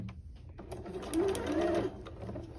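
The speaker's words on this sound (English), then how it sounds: "so I'll baste right here, and then I'll baste here at the end" Sewing machine basting a paper-pieced quilt block, a short quiet run of rapid stitching lasting under a second amid faint background sounds.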